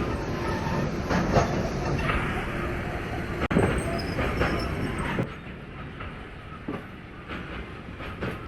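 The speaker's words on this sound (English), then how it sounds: "the train is moving on its own, giving me a ride back to Vano" A train rolling along rails in a video game, steady rumble and rhythmic clicking of wheels over track joints, loud and close, with a sharp clank midway before the noise settles quieter.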